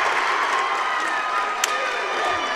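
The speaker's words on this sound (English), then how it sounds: "you've got the rowdy crowd getting into the game" Rowdy crowd cheering at a school basketball game: a dense, continuous roar of voices and shouts with a sharp clap or whistle burst midway.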